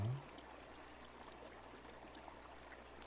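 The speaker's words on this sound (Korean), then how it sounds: "그렇게 물소리를 들으면서 관찰해 봅니다" Water flows softly in a steady, faint, continuous murmur, heard alone and calm after a brief low thump at the start.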